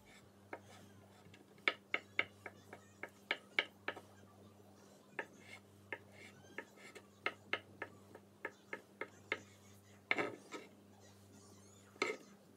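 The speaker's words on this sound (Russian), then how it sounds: "Одно яйцо, отваренное вкрутую, очищенное. И опять же нарезаем кубиками." A knife taps sharply and repeatedly against a cutting board while dicing a peeled hard-boiled egg, quick, uneven bursts of chopping, close and fairly quiet, with short pauses between runs.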